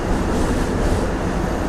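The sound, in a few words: DEMU passenger train departing station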